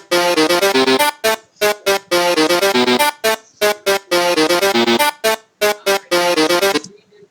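A melody is played as synthesized software notes, a fast run of bright, staccato electronic tones in short phrases broken by brief gaps, loud and alone with no voices.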